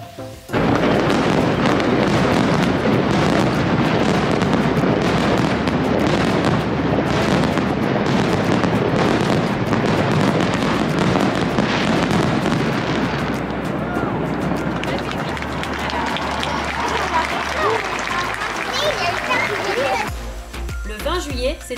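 Fireworks display at Tain-l'Hermitage, France in summer, heard as a continuous loud barrage of booms and crackles with dense overlapping bursts, voices of a crowd talking throughout, ending in a quieter tail.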